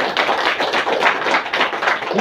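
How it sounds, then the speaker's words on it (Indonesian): An assembled audience at an inauguration ceremony claps hands steadily, a dense, even patter of many hands at close range with no talk over it. "tepuk tangan."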